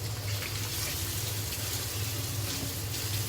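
Beef frying in smoking-hot oil over a high flame gives a steady, fairly loud broadband hiss with a low rumble, continuous and unbroken for the whole stretch, with no voice over it.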